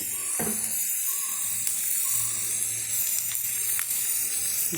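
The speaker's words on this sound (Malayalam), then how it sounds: "ഇതൊന്ന് കടുക് കൂടെ വറുത്ത്" Mustard seeds fry in a pan for a Kerala erissery curry, giving a steady, close hiss and sizzle with a few sharp pops scattered through it.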